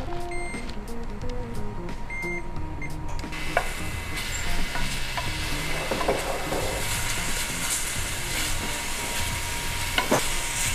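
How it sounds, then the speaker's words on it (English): Garlic sizzles and fries in a pan, a close, steady crackling hiss that swells after a few seconds, with occasional utensil clicks and stirring noises. "So now that we've got a nice little color on the garlic"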